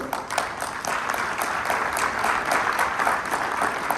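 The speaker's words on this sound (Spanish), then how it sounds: "Reiteramos el aplauso para el doctor." Applause from a seminar audience for a speaker, dense continuous clapping throughout, fairly loud and evenly sustained with no voices over it.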